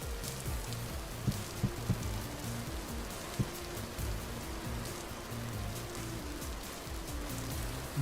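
Steady rain falls in the video game Vintage Story as a constant hiss with a few sharp droplet taps and a faint low background tone throughout.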